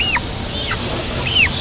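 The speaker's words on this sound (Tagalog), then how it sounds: "Lumalapit na yung mga manok natin." Farm chickens gather for scattered feed, giving a few clear clucks and short squawks over a low rustling background, close by and with no talking.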